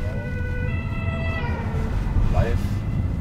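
Police car siren wailing as the patrol car comes up behind a 2021 Toyota Proace City Verso on a road in Wallerfangen, heard from inside the van over steady engine and road noise.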